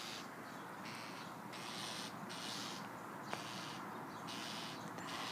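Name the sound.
small bird calling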